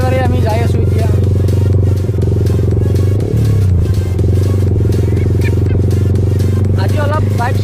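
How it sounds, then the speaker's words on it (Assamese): A Yamaha R15 motorcycle being ridden, its engine giving a steady, loud, continuous drone throughout, with voices and other noise layered over it. "আজি অলপ বাইক চলালোঁ"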